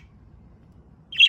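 Pet budgie chirping indoors, a single short, bright chirp near the end after a quiet, low background hum.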